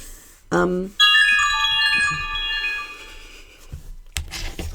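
Mobile phone ringtone, a clear close electronic melodic tone that rings for a few seconds before stopping, with people talking around it.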